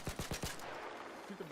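Gunfire in the video game Arc Raiders: four sharp, loud shots in quick succession open the moment, followed by a steady background rumble and a faint tonal game cue near the end.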